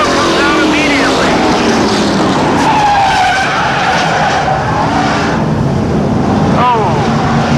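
Race trucks in a 2001 truck series event at DeSoto, racing on the track after a restart; loud, continuous engine roar with tire squeals and passing whines, under an announcer's commentary.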